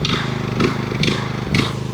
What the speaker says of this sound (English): Moroni's going to do lawn mowing while I try and do this.